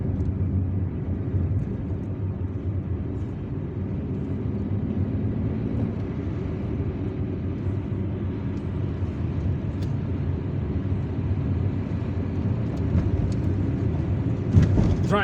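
A car drives through the streets of Algiers, its engine and tyre noise forming a steady, dense low rumble that holds for the whole stretch, with no voices.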